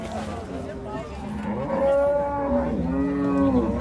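Cattle at a livestock market in Capoeiras, Pernambuco, give long, loud, close moos, one drawn-out call followed by another rising bellow, with no talk over them.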